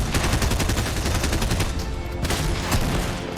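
Rapid gunfire in Fortnite, a dense burst of loud close shots running almost continuously for a few seconds.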